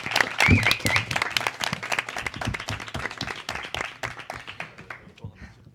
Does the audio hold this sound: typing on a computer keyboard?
no